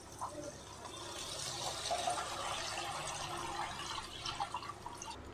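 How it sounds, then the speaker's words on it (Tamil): Masala and tamarind liquid pours into a pan for Katla fish curry with a soft, steady splashing and faint sizzle, heard close but quiet. "அந்த மசாலா பொடி கரைசலை வந்து ஆட் பண்ணிக்கலாம்."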